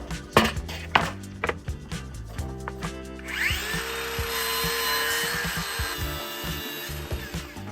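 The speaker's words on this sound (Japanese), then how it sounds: "安く手に入れた無垢の端材は割れてたりするので、脆くなってる部分は先に取っちゃいます。" Cracked, brittle sections being knocked off cheap solid wood offcuts before a resin table build: a series of sharp, close chopping knocks, then a steady loud power-tool whir with grinding that carries on to the end.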